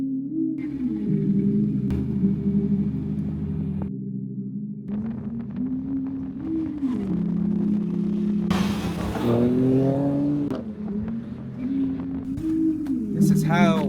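Expensive cars pull up together, their engines humming and revving close by with rising and falling whines as they slow and move in. Voices talk over the engine noise.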